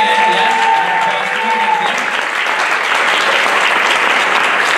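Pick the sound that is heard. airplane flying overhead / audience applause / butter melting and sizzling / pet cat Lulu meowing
audience applause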